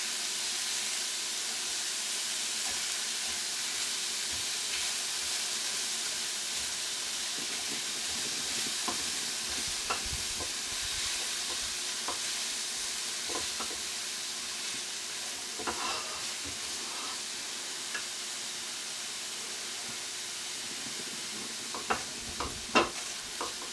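Vegetables sautéing in a pan for Moroccan lamb paella give a steady bright sizzle and hiss throughout, with occasional light clicks of stirring, close and without any voices.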